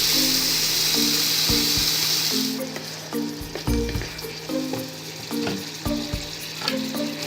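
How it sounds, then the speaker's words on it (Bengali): Spices frying in hot oil, stirred together with tomato paste for a jackfruit kalia: a loud, steady sizzle that softens partway through, with repeated scraping and knocking of the spatula against the pan. "মশলাটা কষাবো, একটু নেড়ে টমেটো বাটাটা দেবো"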